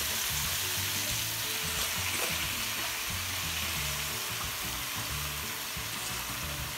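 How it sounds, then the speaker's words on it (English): Chopped spinach sizzles steadily in hot masala for dal palak, a loud, dense, continuous frying hiss with low bubbling underneath and no talking. "Now I'm gonna add my chopped spinach."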